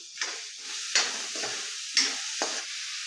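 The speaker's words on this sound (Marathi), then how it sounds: "आणि हा कांदा तेल न घालताच आधी थोडासा असा परतून घ्यायचा." Onion is stir-fried dry in a pan without oil, giving a soft sizzling hiss with a few scraping stirs of a spatula, fairly faint and close, with no talking.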